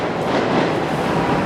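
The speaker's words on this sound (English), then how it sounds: "Trains going by, sirens in the distance." Loud, continuous rumbling roar of a passing train in Fukuoka, Japan, a dense broadband rush that holds steady throughout the short stretch.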